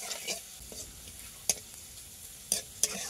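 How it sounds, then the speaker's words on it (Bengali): Crushed garlic fries quietly in a pan with a soft, continuous sizzle, broken by a few sharp clicks of a spatula stirring and scraping against the pan, heard close with no talk. "রসুনটা একটু লাল লাল করে ভাজা ভাজা হলে আমি শাকটা দিয়ে দেবো।"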